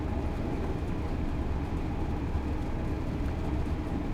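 Class 390 electric train running non-stop in Train Sim World 4, a steady low rumble of wheels and motors, continuous and moderately loud with no speech.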